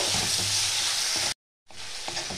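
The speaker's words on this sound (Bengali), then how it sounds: "লবণ স্বাদ মতো দিয়ে আমি ভালো করে কষিয়ে নেব" Spice masala with chilli powder and salt sautés in a pan for bottle gourd curry, a close, steady hiss with faint stirring that cuts out briefly and then resumes.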